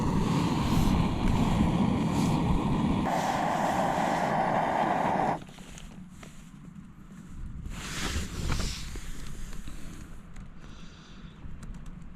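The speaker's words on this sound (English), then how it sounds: "the wind blew in the door massively" Strong wind at a mountain camp in the Glyderau, Snowdonia, roars and buffets loudly, then drops to a lower gusty rush with rising and falling swells.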